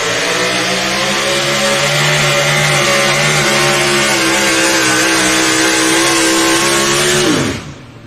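Loud, sustained roar of a truck or tractor pulling engine at full throttle during a pass, rising steadily with pulsing harmonics, then cutting off abruptly near the end.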